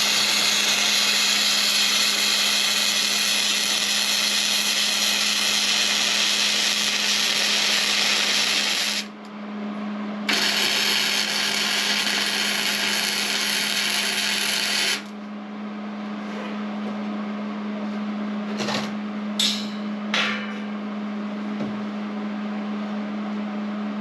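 MIG welding with a Hobart 210MVP welder, attaching teeth to the cutting edge of a Kubota B2601 rock bucket: a loud steady buzzing crackle in long bursts, a short pause, another burst, then quieter hum with brief clicks.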